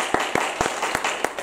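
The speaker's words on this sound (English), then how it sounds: "Clap your hands and celebrate" Congregation in a church service clapping hands in a steady rhythm, about six sharp claps over a second and a half, moderately loud and fairly close, with no talking over them.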